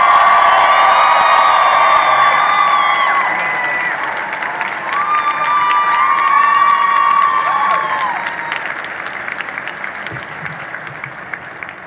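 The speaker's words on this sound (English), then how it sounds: "How about everybody give a round of applause for Mr." An audience at a FIRST Dean's List ceremony gives Dean Kamen a loud, sustained round of applause mixed with cheers and whoops that slowly tapers off.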